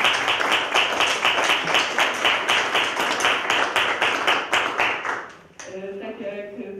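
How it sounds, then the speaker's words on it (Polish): An audience at an art exhibition opening of paintings claps in a brisk, even rhythm for about five seconds, then the applause breaks off and a voice begins speaking. "To wielkie brawa."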